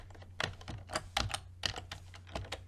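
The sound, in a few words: typing on a computer keyboard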